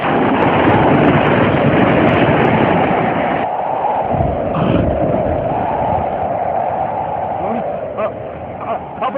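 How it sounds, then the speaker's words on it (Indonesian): Howling storm wind sweeping over a ship at sea in a children's cartoon about the prophet Yunus, a loud continuous roaring gust with a whistling upper layer that runs throughout, with voices calling over it. "Mengapa tiba-tiba ada angin kencang?"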